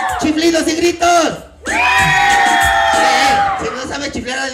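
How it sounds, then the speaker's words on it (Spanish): A crowd at a clown show shouts and whoops loudly, with a brief dip before a long sustained roar. High-pitched whistle-like cries run through it. "¡Chiflidos y gritos!"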